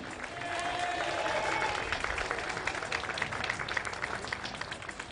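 Applause and crowd noise at an XCAT powerboat race ceremony in Fujairah, a steady mass of clapping that swells and then holds, with a voice briefly heard over it.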